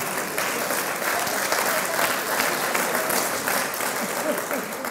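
Sustained audience applause at an Italian lecture by a professor, dense and steady clapping from a crowd filling the whole span, fairly loud and even, with no individual voices standing out.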